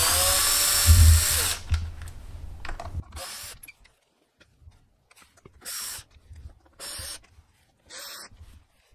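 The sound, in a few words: screw gun with 2.5 mm Allen bit removing battery screws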